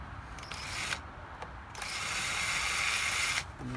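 Small hose clamps come off a hose on a Dodge Ram 3.7L V6 engine in a few close, quiet bursts of ratcheting, clicking metal with short pauses between them. Nobody speaks.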